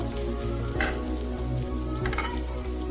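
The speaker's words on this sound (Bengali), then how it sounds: "চিংড়ি মাছ আর পেঁয়াজ এবারে এক মিনিট এক মিনিট ভেজে নেব" Prawns and onion fry in a pan with a steady close sizzle, broken by two brief louder bursts of spattering as they are stirred, with a low hum underneath and no talk.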